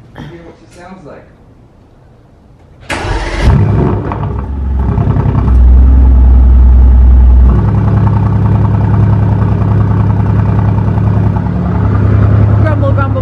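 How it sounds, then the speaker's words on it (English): Cold start of a Mercedes AMG GT R: after quiet handling noises, the engine fires with a loud sharp bark, flares, then settles into a deep, rumbling high idle that holds steady and close up. "gonna get some startups of the cars for you. They'll be cold start."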